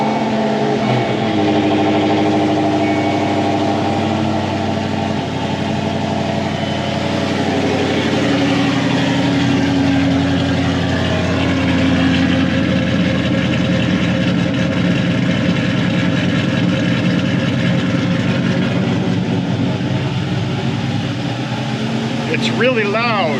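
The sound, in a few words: 2006 Ford Mustang engine idling with no mufflers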